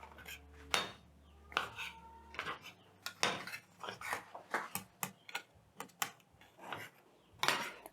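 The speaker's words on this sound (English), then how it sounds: "I'm going to place a lid, and then I'm going to cut out the excess because I want a perfect round shape." A knife cuts excess samosa pastry dough around a lid on a countertop, a quick series of close, sharp taps and scrapes against the hard surface, irregular and crisp with brief pauses between strokes.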